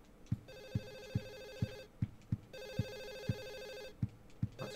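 A phone in the Silent Hill 4 video game rings in steady bursts, each burst made of several quick bell strikes. Brief pauses fall between the bursts. The ringing is close and clear, with no talk over it.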